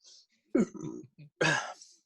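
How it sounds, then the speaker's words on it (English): A close, short burp followed by a second, throaty belch, isolated by near silence in a quiet indoor setting with no talk around them. "I got a burp, so I'm trying not to burp out loud."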